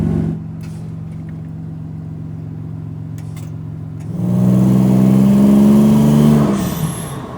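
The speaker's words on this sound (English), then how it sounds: "Just the sound of this thing is cool." A truck engine idles with a low steady rumble, then revs up for a couple of seconds, rising louder and higher before dropping back down.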